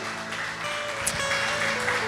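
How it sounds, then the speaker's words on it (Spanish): Applause from a church congregation during a Spanish-language worship service, a dense steady patter of clapping that fills the space under sustained musical tones. "Un fuerte aplauso al Señor."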